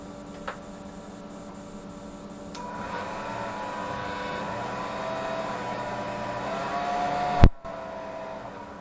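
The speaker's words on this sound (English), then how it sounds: "Let's power up our motor now." Small electric motor powering up and running steadily, a faint continuous hum with a slight rise partway through and a brief sharp click near the end.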